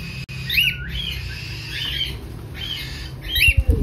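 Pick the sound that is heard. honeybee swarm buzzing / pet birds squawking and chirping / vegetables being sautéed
pet birds squawking and chirping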